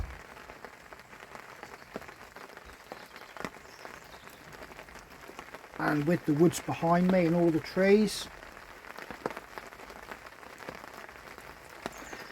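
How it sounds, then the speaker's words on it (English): Steady rain patters on a tarp shelter in bluebell woodland during a wild camp, a soft continuous hiss under someone speaking close by. "There is nothing actually quite like rain on a tarp, staring out into a woodland"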